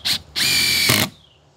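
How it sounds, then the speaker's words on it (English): A DeWalt Atomic 20V impact driver drives a 3-inch screw: a brief burst, a pause, then a longer loud whirring run with a rapid hammering rattle at the end, heard close and alone. "Listen to how many times the Atomic actually makes that hammering noise running a 3-inch screw."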